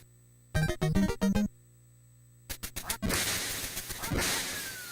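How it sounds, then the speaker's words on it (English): Ducks quack in the NES Duck Hunt video game: a quick run of four electronic quacks, then a gap, then a burst of flapping and shot noise trailing into a loud hissing wash. "Ducks."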